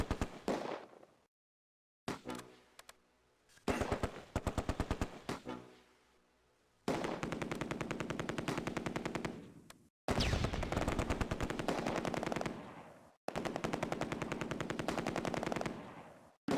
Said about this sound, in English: The MG42 has achieved a break-in, and the Sturmgrenadier squad continues to provide suppressing fire.